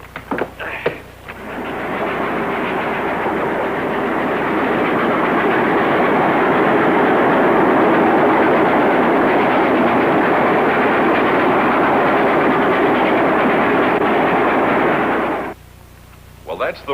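A train runs on rails, a loud, dense rushing roar with a rapid clatter that holds steady for about fifteen seconds and then cuts off abruptly. Brief sounds come just before and after it, and no voices are heard.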